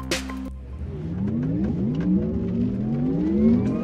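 An electric race car drives past close by. Its motor gives off a spacey, rising whine with sweeping tones that climb repeatedly, loud and steady, after a brief opening thump.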